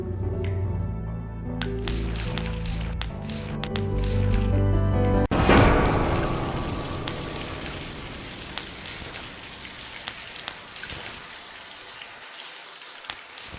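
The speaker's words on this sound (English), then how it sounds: "Maybe together we can pull this pipe off the wall." In The Cat Lady video game, a pipe is wrenched off a wall with a sharp clank and water bursts out in a loud, hissing gush, then spatters and drips steadily for several seconds afterward.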